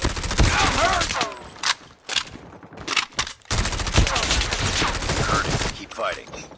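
Call of Duty gunfire in a multiplayer match: dense bursts of automatic weapon shots and single cracks, loud and close, broken by short pauses, with game voice callouts over the action.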